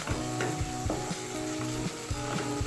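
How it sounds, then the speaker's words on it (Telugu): Tomatoes and green chillies frying in a pan for an egg curry, a continuous close sizzle broken by repeated rhythmic stirring knocks of a spoon. "సో టమాటాలు మంచిగా మగ్గుతున్నాయండి."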